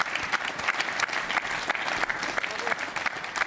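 An audience at the Vendée Globe sailing race prize ceremony applauds the third-place trophy presentation, brisk continuous clapping from a crowd at close range.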